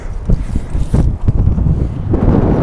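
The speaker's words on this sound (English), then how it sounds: "Pretty windy up here." Strong wind buffets the microphone at the top of a trad rock climb, a steady low roar that swells and gusts without pause for nearly three seconds, close and loud.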